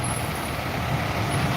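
A heavy tronton bus idles with a deep rumble at Rosalia Indah's Palembang bus station during the busy homecoming rush, a steady low engine drone with a faint high whine over it.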